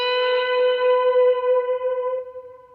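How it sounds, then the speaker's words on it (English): A single sustained electric guitar note rings out through dual delay and plate reverb effects, holding steady with rich harmonics before the repeats ripple and slowly fade, alone with no talking. "That was all delay and all reverb"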